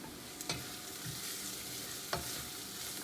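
Garlic frying in a pan, a steady close sizzle with a few sharp clicks of stirring scattered through.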